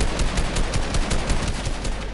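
Rapid automatic gunfire in a shooter video game, a dense stream of close, loud shots firing continuously in quick succession for about two seconds.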